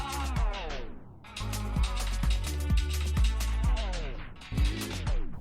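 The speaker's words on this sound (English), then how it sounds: "it's a release effect as the name states" Electronic dance music played through Rekordbox DJ software has a release effect applied, with falling pitch sweeps and a rhythmic beat that cuts out and returns, loud and with no voices over it.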